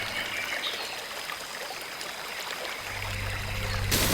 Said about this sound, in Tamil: எப்படியோ ஒரு வழியா அருவிக்கு வந்துட்டோம்.